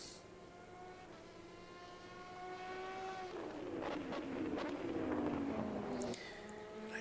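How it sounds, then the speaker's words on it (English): A high-pitched V8 race car engine in the racing game rFactor 2 revs and screams, its tone climbing and then dropping through gear changes, loud and close with no talking. "Bit of a screamy V8 as opposed to a thunderous V8"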